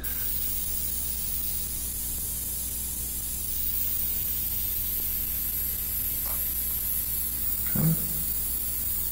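An airbrush sprays paint for a skin-tone mural in a steady, continuous airy hiss that runs through the whole stretch. A couple of faint clicks and knocks fall near the end.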